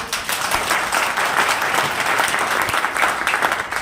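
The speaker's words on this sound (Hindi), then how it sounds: "तो जबरदस्त तालियां होनी चाहिए" A training-session audience bursts into dense, sustained applause, many hands clapping steadily and loudly throughout with no talking over it.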